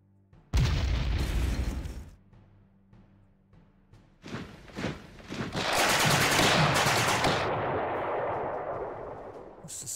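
Bombs and gunfire in the Panzer Corps wargame: a loud blast opens, then scattered pops and a second heavy explosion rolls into a sustained booming barrage.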